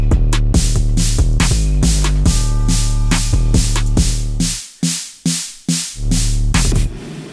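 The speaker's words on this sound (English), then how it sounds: "it turns on a filter echo and it starts the build sample here" Looping electronic dance music through a Pioneer DDJ-FLX6-GT DJ controller's filter echo build effect; near the end the sound cuts in and out in rhythmic gated pulses.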